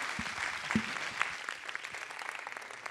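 Applause from the audience at an agricultural technology pitch competition, moderate crowd clapping that starts fuller and thins out, with a few distinct louder claps standing out.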